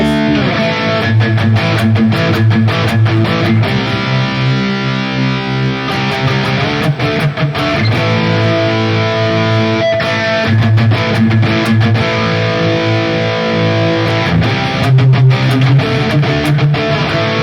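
Electric guitar played through a Harley Benton Vintage Overdrive pedal into a Valeton GP-200 with a Friedman amp model, loud crunchy chords and riffs ringing continuously with short stops between phrases.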